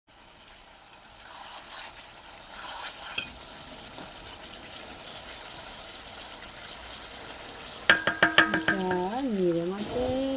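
A fish curry simmers and bubbles in a pan, with a steady low sizzle and light stirring scrapes that grow louder and busier toward the end, with no talk over it.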